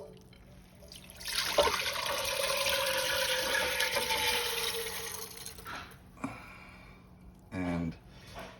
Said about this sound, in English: we're gonna put this in a pot of water